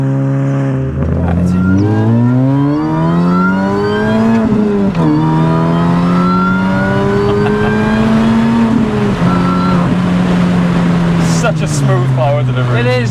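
Supercharged Mini Cooper S R53 driven hard on a track, engine revving up and down through gear changes with a whining rise in pitch, loud and close inside the cabin, with people talking over it.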